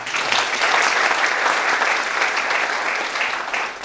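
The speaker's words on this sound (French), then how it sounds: "je vous demande de les applaudir" Sustained applause from an audience at a French academic panel on innovation, investment and intellectual property, steady and dense throughout with no voices over it.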